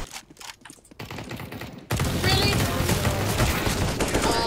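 Rapid SSG gunfire in Fortnite, dense bursts of shots that start faint and scattered, then grow loud and continuous from the middle of the clip onward.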